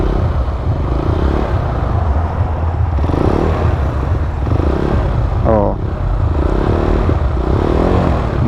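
A Rusi DL 150 motorcycle engine, recently repaired after heavy white smoke, runs loud and close with a steady rumble and rises in revs, while a person talks over it.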